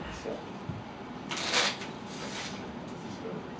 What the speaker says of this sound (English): Shuffle these up here.